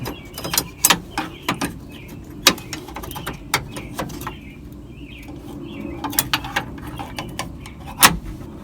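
Clicks and clunks of the rear quarter window mechanism on a 1969 Camaro being worked by hand, a series of sharp metallic taps and snaps ending in a louder click, with faint background chirps and no speech.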